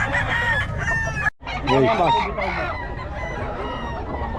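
Roosters at a cockfight betting gathering crow and cluck close by, with several overlapping calls over a steady crowd murmur, and a brief voice cuts in near the start.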